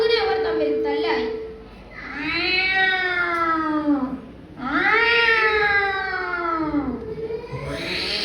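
A single voice mimics two cats fighting, with long wavering yowls rising and falling in three sustained stretches, loud and close, like a tense caterwauling standoff between rival cats.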